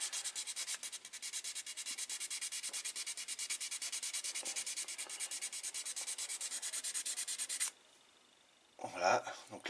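A part from a Honda CBX 400F motorcycle is hand-sanded with a finer-grit abrasive, giving a steady rhythmic rasp of quick back-and-forth strokes that stops near the end, followed by brief talk.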